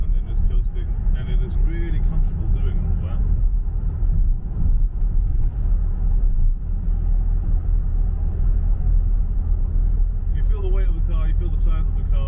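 A V6 turbo all-wheel-drive car cruises with a steady low engine and road rumble from inside the cabin, while people talk over it throughout.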